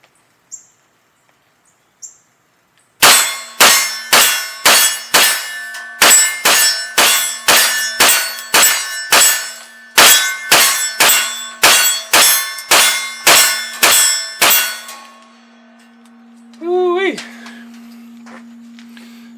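A CMMG MK17 rifle dumps a 21-round magazine of Winchester steel-cased ammo into steel targets at 20 yards, a fast loud string of sharp shots and bright clangs in two bursts, followed by ringing.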